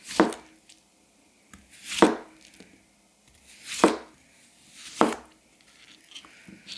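A kitchen knife, a thick-behind-the-edge WynterForge Wolfram Ko bunka with a C grind sharpened to 2K, chops through potato skin on a board: four crisp, close cuts land at a slow, uneven pace with quiet gaps between them.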